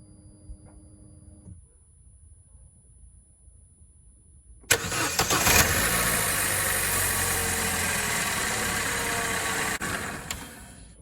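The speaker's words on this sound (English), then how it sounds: "just start the engine for a couple of seconds" A 2014 Opel Corsa D 1.4 engine cranks briefly and catches, then settles into a steady, fairly loud idle that holds for several seconds before dropping slightly near the end.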